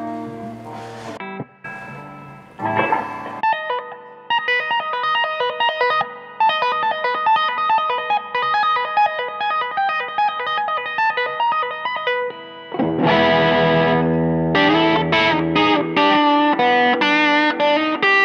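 Electric guitar played through an overdrive pedal, with a few chopped strums followed by sustained distorted notes and chords, and a heavier, fuller chord passage near the end.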